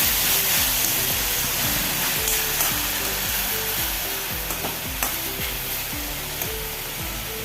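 Spinach thoran with moong dal fries in a pan while being stirred, a constant loud sizzle with repeated scraping and clinking strokes of the spoon close up.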